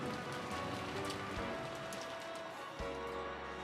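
Heavy rain pours steadily in the Umineko Chiru visual novel game, a dense continuous hiss of drops on surfaces, loud and unbroken with a faint low hum beneath.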